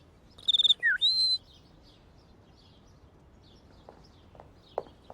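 A person whistles imitation bird calls: a few bright, sliding whistled notes in quick succession near the start, followed by faint scattered chirps and ticks over a quiet background.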